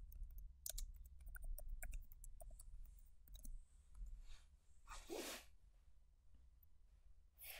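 Keys clatter on a computer keyboard as a command is typed into a terminal, a quick run of quiet, close clicks followed by a louder soft swish.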